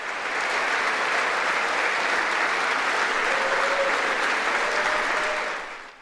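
Sustained audience applause in the U.S. House chamber during the vote for Speaker, a broad, even roar of clapping that stays loud throughout and tapers slightly at the end, with no talking on top.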